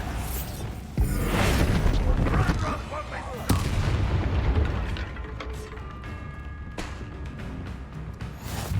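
Bombarda blasting spell in Hogwarts Legacy, loud booming explosive bursts near the start and again mid-clip, followed by rumbling debris and mechanical clatter with faint game music.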